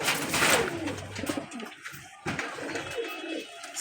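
A pair of red-marked pigeons coo in soft, repeated throaty phrases close by, with brief pauses between calls.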